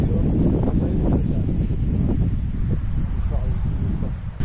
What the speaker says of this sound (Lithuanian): Pasiuto vėjas pūst.